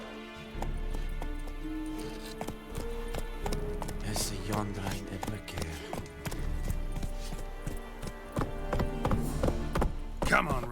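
Hooves of the horse Roach in the video game The Witcher 3 beat a steady, rhythmic clip-clop, with music playing and a voice speaking over it.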